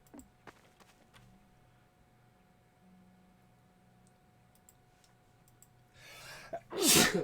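After several quiet seconds of faint ticks and a low hum, a single loud, close sneeze bursts out near the end, preceded by a short sharp inhale.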